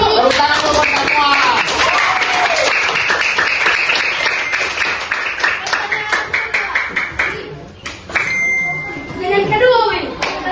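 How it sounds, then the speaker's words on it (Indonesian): Children and adults in a classroom-style gathering clap together in a dense, rhythmic burst that fades into scattered claps, with a voice speaking over it. "Tepuk tangan buat semua."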